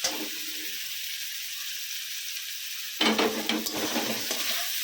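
Peas fry in a pan with a steady soft sizzle until pre-fried potatoes drop in, bringing a burst of louder crackling and scraping stirs that then calm to a bubbling hiss.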